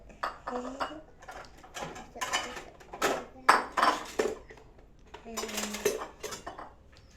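Rice is scooped onto a plate with utensils: a series of clinking metal-on-ceramic taps and scrapes in uneven bursts, with a voice speaking between them.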